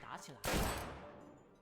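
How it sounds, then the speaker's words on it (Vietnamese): A single sharp gunshot bursts out loud and close, decaying over about a second, following a brief stretch of speech. "Đây là tiếng súng."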